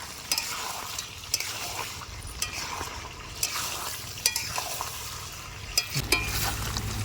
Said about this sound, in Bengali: ভেজে রাখা আলু দিয়ে আরও চার পাঁচ মিনিট কিন্তু ঢাকা চাপা দিয়ে আমি চিকেনটাকে কষে নিচ্ছি